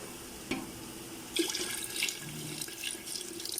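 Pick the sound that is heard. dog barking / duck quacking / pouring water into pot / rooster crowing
pouring water into pot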